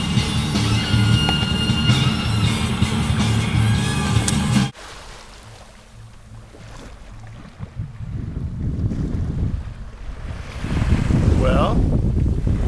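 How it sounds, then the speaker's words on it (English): A sailboat underway near Ilhabela in strong wind: loud, roaring wind buffets the microphone over rushing water, dips briefly to a calmer wash, then swells again. "Well, we're sailing. It is a sailboat."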